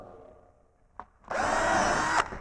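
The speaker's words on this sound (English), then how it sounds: "I'm going to drill part of the way through until the pilot hole goes through" A power drill whirs up and bites into wood for about a second, drilling a pilot hole partway through, loud and close, after a brief click; steady high-pitched grinding with no talking.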